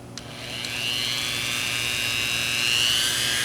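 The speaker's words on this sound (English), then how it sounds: "Now I have my Dremel with a very sharp tip on it." A Dremel rotary tool with a sharp tip whines at high speed while drilling a small hole in a whittled wooden figure, a close, steady rising whir that holds for several seconds.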